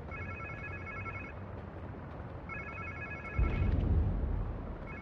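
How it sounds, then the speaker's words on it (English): A phone rings in the Spider-Man 2 video game, two bursts of a repeating electronic trill separated by a pause, fairly faint over a low background hum, followed by a heavier low thud. "Sounds like somebody's phone."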